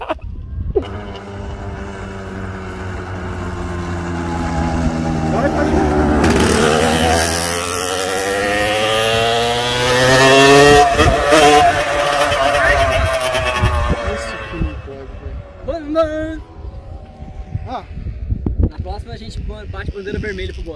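Tuned two-stroke Yamaha RD 135 engine in a go-kart at midnight, a loud buzzing drone whose pitch sweeps up and down as it revs and passes, with people shouting over it.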